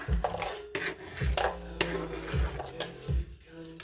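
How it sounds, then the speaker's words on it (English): A metal knife's blunt back scrapes chopped celery across a cutting board into a bowl, making repeated short scraping strokes with light clacks, close and fairly quiet. "flip your knife, use the not sharp side, and scrape into your bowl"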